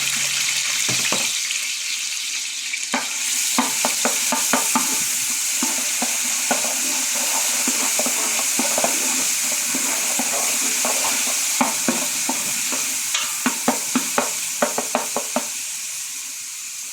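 Chopped onions fry in hot oil in a pan, a constant sizzling hiss with bursts of quick spatula scrapes and clicks, close by and unaccompanied by voices.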